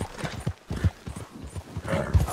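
Horse hooves clip-clop at a steady trotting rhythm in the video game Red Dead Redemption 2, close and clear, with no talking over them.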